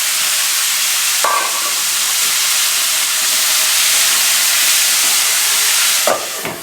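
Cumin seeds and asafoetida tempering in hot oil, a steady loud sizzle and hiss that runs throughout, with a brief stirring clatter near the start and again near the end.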